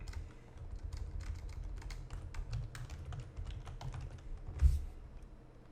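Rapid keystrokes clatter on a computer keyboard in an uneven rhythm, close and fairly quiet, ending with a single heavier tap.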